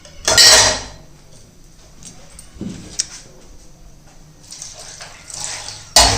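Metal dishes and utensils are gathered into one spot in a home kitchen, with a loud clattering burst at the start, scattered clinks and scrapes in between, and another sharp clang at the end.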